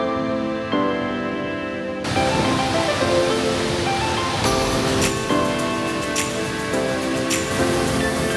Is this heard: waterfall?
yes